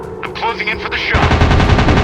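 Machine gun fire in a WWII dogfighting video game, a loud rapid rattle of shots close up that grows denser midway, with a voice talking underneath.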